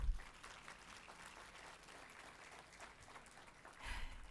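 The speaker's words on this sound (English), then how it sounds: "I think we can applaud for that." A business summit audience claps in a large hall, a quiet, steady patter of many hands heard from a distance, with a louder swell near the end.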